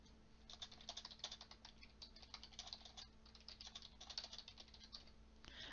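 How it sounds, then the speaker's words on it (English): Quiet, steady typing on a computer keyboard while entering a math tutorial problem, an irregular stream of soft keystrokes close by with no talking. "I don't know why I'm typing this when I could just go copy and paste it."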